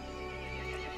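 A horse in the video game Resident Evil Village whinnies loudly in one short, shrill burst, the neigh filling the whole moment with no speech.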